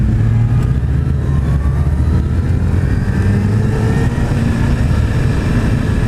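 A 2016 Suzuki Hayabusa sport motorcycle cruising on the road, its engine a steady, loud low rumble with continuous wind roar and no noticeable revving throughout.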